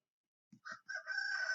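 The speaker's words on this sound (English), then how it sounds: "My rooster's gonna go off." Backyard rooster crowing at home, a few short clucks and then a rising crow held out, fairly faint and alone in quiet surroundings.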